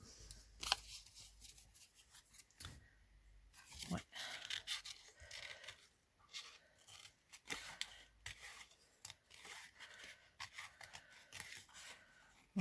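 Scissors snip quietly and repeatedly at close range, roughly cutting out stamped paper images for a craft page, with soft paper rustling between cuts.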